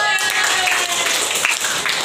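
A classroom of students claps hands together in a brief burst of dense, close applause, with voices mixed in during a school chemistry practical on acids and bases.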